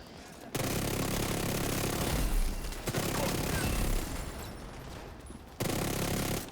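Gunfire rattles in The Division 2 as dense, loud bursts of automatic fire that run for several seconds, break off briefly, then resume in another burst.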